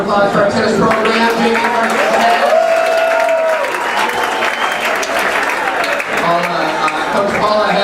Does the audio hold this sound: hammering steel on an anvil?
no